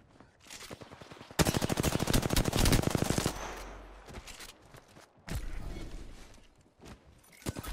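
Automatic weapon fire in the shooter game Apex Legends, a long loud rattling burst followed by shorter volleys and scattered shots, with faint footsteps and movement between them.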